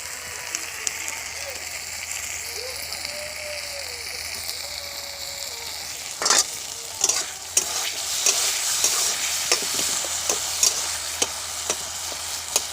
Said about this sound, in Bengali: ফুলকপি আলু এই যে তেলে ভেজে নিচ্ছি